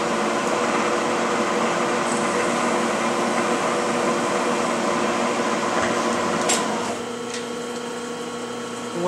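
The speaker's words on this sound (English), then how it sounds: "The end mill is now contacting the part." End mill on a milling machine feeding down into a small camera-mount part, giving a steady loud mechanical hum with harmonic whine throughout, dropping slightly in level near the end.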